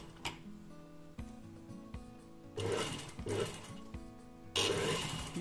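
A sewing machine topstitches along a zipper fly in short runs, its rapid mechanical ticking stopping and starting up close, with louder stretches of stitching and no talk.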